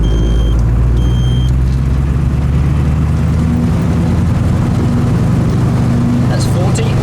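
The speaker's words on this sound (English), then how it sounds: "it just shows normal driving in fifth gear" Car cruising downhill in fifth gear at around 40 mph, with a steady low engine drone and road rumble throughout, alongside faint cabin noise.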